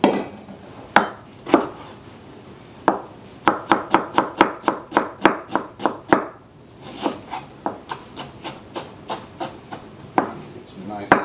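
A knife chops radicchio on a cutting board in quick, close, sharp strokes, at first scattered, then a steady run of hits, with a short pause before more chopping. No one speaks.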